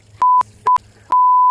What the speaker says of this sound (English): It's just a high-pitched ringing.